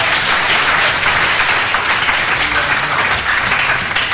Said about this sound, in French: On va acclamer mon Dieu